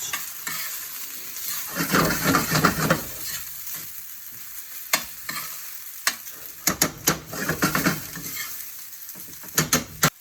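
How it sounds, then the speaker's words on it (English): Ingredients stir-fried in a hot pan while being cooked with rice, a steady loud sizzle broken by repeated scraping and clinking of a utensil against the pan, close up and without speech. "So I'm just going to gently stir fry this through. Make sure we've got it nice and hot."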